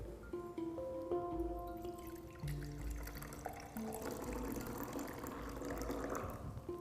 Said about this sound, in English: I am going to decant the clear liquid into a fresh beaker